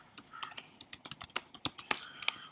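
Rapid, uneven keystrokes clatter on a computer keyboard during an HTML form demonstration, a quick run of close, crisp clicks with no voice over them.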